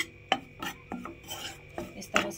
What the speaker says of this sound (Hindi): तो इस तरह से हम बेसन को हम भून लेते हैं।